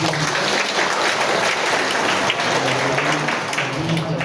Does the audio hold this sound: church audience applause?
yes